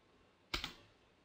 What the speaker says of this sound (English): here enter 2 from your keyboard to select space management